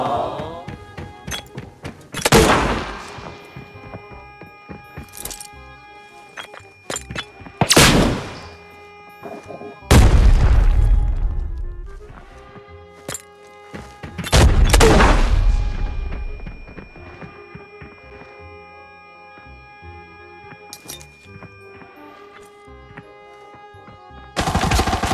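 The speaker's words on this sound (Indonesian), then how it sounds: "Langsung nembak gitu aja." Shooter-game gunfire rings out as several loud, sharp bursts and automatic volleys a few seconds apart, with quieter game ambience ringing between them.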